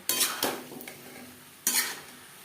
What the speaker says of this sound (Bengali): মশলার সাথে আলু পটল বেশ ভালো করে মিক্সড করে দেবো হাই টু মিডিয়াম ফ্লেমে দু তিন মিনিট নাড়াচাড়া করে নেব